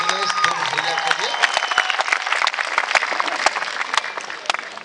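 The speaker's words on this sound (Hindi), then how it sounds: "और एक बार फिर तालियां बजे दिनेश भैया के लिए।" Audience applause for a poet at a kavi sammelan, with individual sharp claps standing out from a steady clapping crowd, while a voice carries over the start and the clapping thins toward the end.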